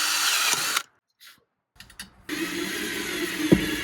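A power drill whirs loudly and steadily while drilling a hole during a van floor installation, stops for a brief quiet pause with a few small clicks, then starts up again and keeps running.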